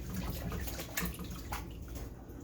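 Carrots being washed in a pan of water, with steady sloshing and splashing throughout and a few brief louder swishes, close by with no talking.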